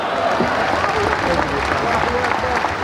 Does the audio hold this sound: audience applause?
yes